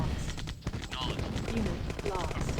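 A flame tank in the Command and Conquer real-time strategy game blasts its flame turret, producing rough, rapid bursts of crackling fire under a talking voice.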